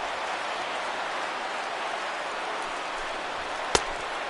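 Steady rain falling in the baseball video game MLB 16 The Show, an even hiss of rainfall throughout with one sharp click near the end.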